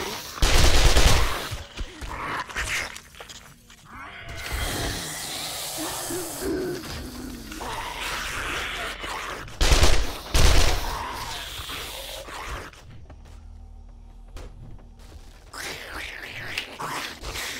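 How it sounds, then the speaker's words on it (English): Gunfire in the video game 7 Days to Die, with loud bursts of shots at the start and again around the middle, separated by stretches of busy game noise and ambient rumble. "And who are you shooting, sis?"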